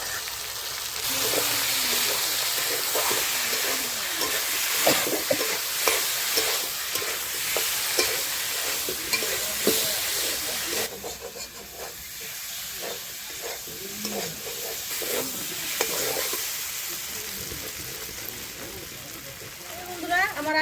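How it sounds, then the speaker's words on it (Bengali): Ginger, cumin and green chilli paste with potatoes, salt and turmeric fries in a pan, giving a steady sizzle broken by repeated stirring scrapes, with a brief dip partway through and a voice talking over it now and then. "দিয়ে দেবো বাটা মশলা আদা বাটা জিরে বাটা কাঁচা লঙ্কা বাটা একসঙ্গে উপরে ভেজে নেব"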